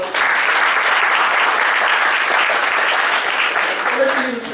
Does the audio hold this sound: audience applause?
yes